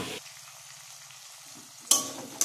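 Cauliflower, carrot, tomato, green chili, peas and potato frying in a pan for veg chowmein, a low soft sizzle with faint stirring, ending in two sharp louder clatters near the end.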